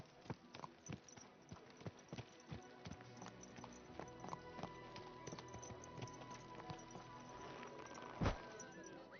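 Steady clip-clop of horse hooves trotting in the video game Kingdom Come: Deliverance II, close and rhythmic, with a brief louder thump near the end.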